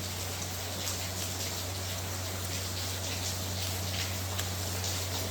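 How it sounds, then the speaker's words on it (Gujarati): Heavy rain pours down in a steady, even hiss of drops over a constant low electrical hum, with no voices. "ધોધમાર વરસાદ એટલે બહુ જ એટલે બહુ."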